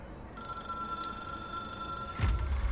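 Telephone ringing inside the video game Control, a steady electronic ring holding for a couple of seconds over a low ambient hum, then cut off by a heavier thud.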